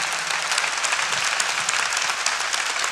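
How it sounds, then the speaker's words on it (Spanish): A congregation claps throughout, a dense, steady burst of applause lasting a few seconds with no talk over it. "¿Por qué no le damos un aplauso a nuestro Padre que nos recompensa?"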